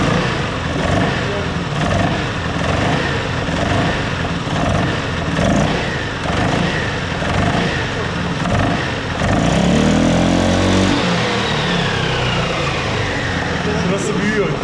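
A motorcycle with a CVT transmission has its throttle opened and released, giving a steady, fairly loud engine drone that swells as the revs rise, then drops back toward idle, with people talking over it.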